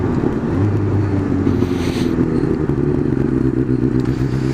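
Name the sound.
road traffic passing by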